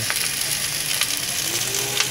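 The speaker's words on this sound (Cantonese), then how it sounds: "我哋煎咁慢慢火煎呢個皮係腍腍地嘅" Prawns fry slowly in a pan over low heat, a close, continuous sizzle with soft crackles and occasional stirring scrapes and no talking.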